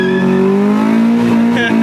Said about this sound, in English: Second gear burnout?